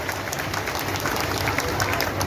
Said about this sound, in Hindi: एक बार जोरदार ताली इसके लिए अपनी सरकार की।